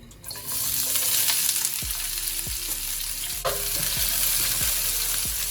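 Onions hit a hot pan for a shrimp stir fry, bursting into a loud, steady sizzle that continues close by, with a few sharp clinks of a utensil against the pan.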